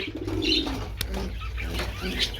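Pigeons coo at a pigeon farm, with low throaty coos and a few higher chirps close by, a sharp click partway through and bird noise layered thickly throughout.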